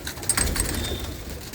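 Pigeons in a loft give soft, brief coos and a couple of thin chirps over a low rustling background, close by and short.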